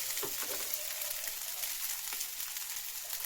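Sago pearls and potatoes fry in a pan with a steady, close hiss of sizzling oil and faint crackles, occasionally stirred, with no voices.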